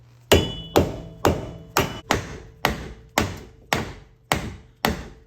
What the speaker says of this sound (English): I'm just going to use my dead blow